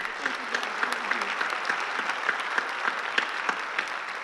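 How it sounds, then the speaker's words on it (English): An indoor audience at an alumni evening applauds, a steady patter of many clapping hands sustained evenly throughout. "I would ask everyone to give them applause"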